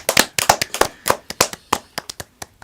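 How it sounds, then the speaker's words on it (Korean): About a dozen sharp, separate hand claps from a few people in a broadcast studio talk show, quick at first, then thinning and slowing as they fade. "이야 박수 한번"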